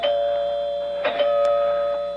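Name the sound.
doorbell ringing, radio drama sound effect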